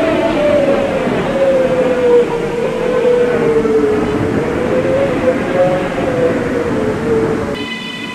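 An R211 M subway train in the Roblox game, Coney Island bound on the D line, hums steadily with a slowly wavering motor tone and continuous rolling rumble, a chime sounding near the end.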